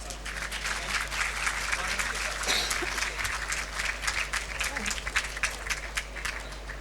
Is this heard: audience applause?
yes